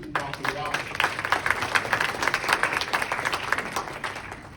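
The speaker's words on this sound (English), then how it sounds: "please give them a round of applause" A town hall meeting crowd claps for city staff, a smaller group applauding with distinct, audible individual claps in a loose rhythm, with a few voices faintly underneath.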